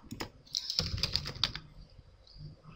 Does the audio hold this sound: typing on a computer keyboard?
yes